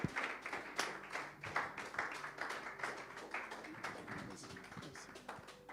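A church congregation claps for an evangelist, a dense, fairly quiet patter of many hands that continues unevenly throughout, with faint voices underneath.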